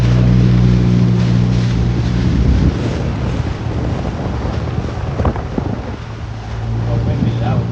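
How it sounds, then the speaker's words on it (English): Strong wind buffets the microphone at a sheltered boat anchorage carved into volcanic rock near Espiritu Santo, with a steady roar and gusty rumble and faint water and boat noise beneath. "Oh, windy."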